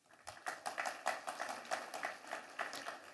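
Shareholders at an annual general meeting clapping in approval, a faint, scattered patter of hand claps from a room full of people, steady and subdued throughout.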